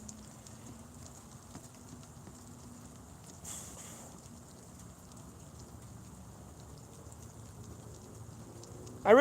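Steady, soft rain falling outside by a porch, a constant faint patter close by with a brief louder rustle midway and a sudden sharp sound at the very end.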